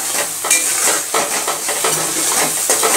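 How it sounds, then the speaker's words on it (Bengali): A spatula scrapes and stirs salted pointed gourd (potol) around a pan over a medium gas flame, with repeated rhythmic strokes over a constant close sizzle. "এইবারটা পটলটাকে ভালো করে নাড়াবো, গ্যাসের জোরটা মিডিয়াম দেবো"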